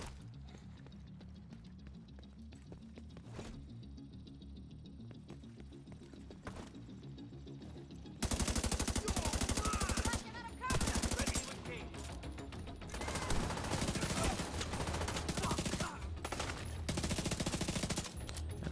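Pistol gunfire in a video game, starting as sparse isolated shots over a quiet game background, then breaking into loud, rapid bursts of repeated firing that run in several long stretches, with a voice briefly heard.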